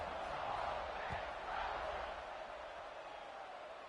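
A stadium crowd in the college football video game College Football 26, at a Mississippi State versus Ole Miss game, keeps up a steady, broad roar and buzz that eases slightly near the end.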